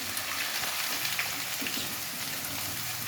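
Ginger and garlic frying in a pan for amla pachadi, giving a steady, close crackling sizzle that stays even throughout with no talking.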